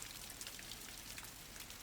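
Steady rain falls in a soft, even patter with scattered drops, faint and continuous throughout with no voices.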